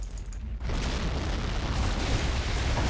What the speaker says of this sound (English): Hopefully that supply truck explosion just decrewed it.